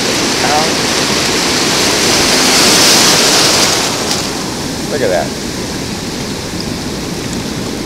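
Waves crash and wash onto a windy, rocky beach in a continuous loud roar of surf and rushing water, with someone briefly speaking over it.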